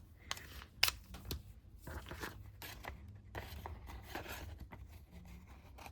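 Scissors cut paper at an angle for a mini scrapbook journal, giving quiet, close snips and rustling scrapes in an irregular rhythm.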